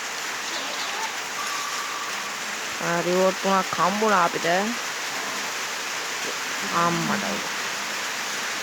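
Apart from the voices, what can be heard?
rain in the video game Car Legends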